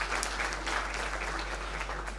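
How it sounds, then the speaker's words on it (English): Convocation audience applauds seated teachers, steady faint clapping throughout over a low constant electrical hum. "they deserve a huge round of applause."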